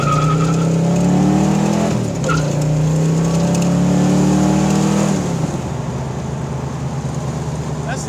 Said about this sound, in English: Let's see how the acceleration is.